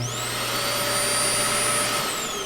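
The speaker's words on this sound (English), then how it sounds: "the whole house vacuum cleaner system" Whole-house central vacuum system built into a 2020 Grand Design Solitude 375 fifth-wheel RV runs with a loud, steady whine and roar, unbroken and close throughout.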